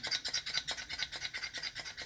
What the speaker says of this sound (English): We got this pump action slender grinder right here.